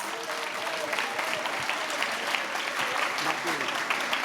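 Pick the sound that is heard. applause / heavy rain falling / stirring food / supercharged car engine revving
applause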